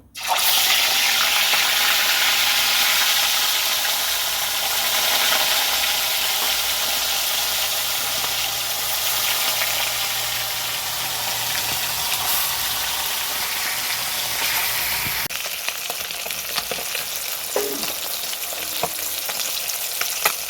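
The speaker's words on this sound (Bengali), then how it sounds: "মাছগুলো ভাজার জন্য দিয়ে দেবো।" Pieces of silver carp fry in hot oil in a wok, giving a loud, continuous sizzle with crackling that lasts throughout and eases slightly near the end, with no voices.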